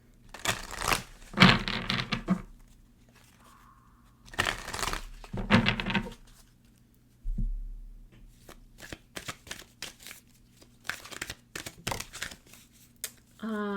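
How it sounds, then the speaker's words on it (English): Oracle cards are shuffled in bursts of crisp riffling and flicking, separated by short pauses, ending in quick snaps as a single card is drawn; all close up and alone. "pull an Archangel Animal Oracle card to see which animal guides are guiding you through September"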